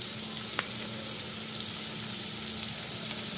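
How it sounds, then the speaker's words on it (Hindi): Chopped garlic and onion with asafoetida frying in oil in a pan for a cabbage and gram flour curry, a steady close hissing sizzle with faint occasional clicks, no talking. "और इसको भी अच्छे से भून लेंगे।"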